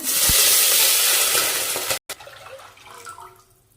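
Water poured into a hot Hyderabadi chicken dum biryani pot with cardamom, cinnamon and bay leaf gives a loud, close, broadband sizzle for about two seconds, cuts off abruptly, then settles into quieter bubbling and faint stirring.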